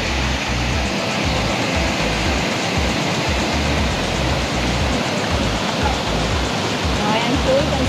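Water of a forest stream in Bù Gia Mập National Park rushes steadily throughout, a dense continuous broadband roar like a small waterfall, loud and close with no other clear sounds.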